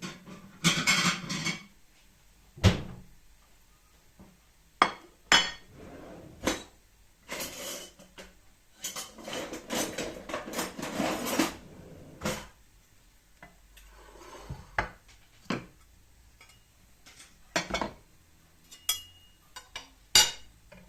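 Dishes and cutlery clink intermittently as yalancı onion dolma is served onto plates, with scattered near clatters, scrapes and short knocks separated by quiet gaps.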